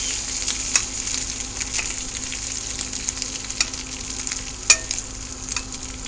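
Rice sizzling and frying in a cast iron pan over a Coleman camp stove in a greenhouse, a steady close hiss with occasional sharp crackles and pops, no talking.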